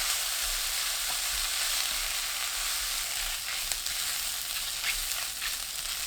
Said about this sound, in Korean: 어묵 넣고 중불로 2분 볶아주세요.